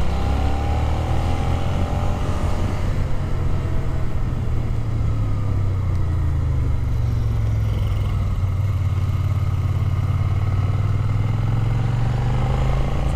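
Motorcycles, a Suzuki Gladius and a Kawasaki Versys, ride hilly, twisty roads in Tenerife, with a steady close engine drone and wind rush that rises and falls in pitch without a break.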